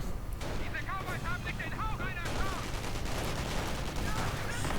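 Machine gun fire from a Panzer IV gunner in a WWII real-time strategy game, rapid bursts and battle booms mixed with continuous distant gunfire and explosions.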